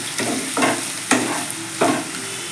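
Poppy seed paste frying in a pan, stirred in three distinct strokes, each a loud, close scrape over a continuous sizzle, with no speech.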